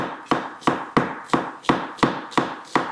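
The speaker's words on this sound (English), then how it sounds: "Let's go and slice these onions real thin" A knife slices peeled onions thin on a board in a steady run of eight crisp, close chops at an even brisk rhythm, with no talk.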